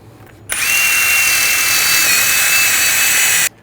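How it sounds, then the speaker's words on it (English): A power-driven wire brush scours rust and debris from the front brake hub of a 2007-2013 BMW 328i. It gives one loud, steady, high whine that runs about three seconds and then stops sharply. "Now I'm going to use a wire brush and just clean up the hub surface, get any rust or dirt and debris off."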